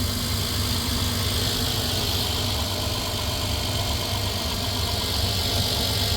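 A Dodge Caravan engine idles steadily after a cold start, a loud continuous mechanical drone with a faint knocking texture and no talking.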